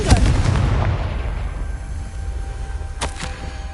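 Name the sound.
Confringo spell explosion from a Harry Potter video game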